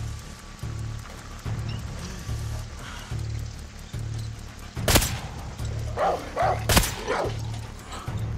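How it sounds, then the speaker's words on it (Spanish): A dog barking in the video game Far Cry 6, a couple of sharp barks and short yips rising out of a steady low ambient bed, moderately close, with no speech. "Mira qué cabrón el perro."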